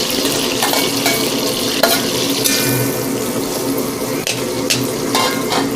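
Chopped shallots fry in hot coconut oil with a loud, dense, continuous sizzle close by, broken now and then by brief stirring scrapes.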